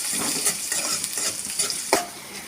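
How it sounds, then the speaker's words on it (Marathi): Steady oily sizzling of onions frying in oil until browned and darkened for a crab curry, with soft stirring scrapes and a sharper clack near the end. "हे बघा कांदा आपला परतून झालेला आहे"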